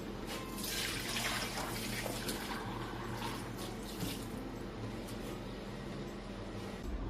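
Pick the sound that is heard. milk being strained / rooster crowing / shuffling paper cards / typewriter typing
milk being strained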